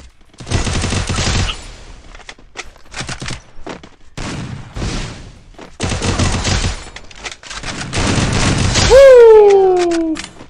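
Gunfire in a mobile shooter game comes in repeated rapid automatic bursts, loud and close, separated by short pauses, with a rising tonal effect near the end.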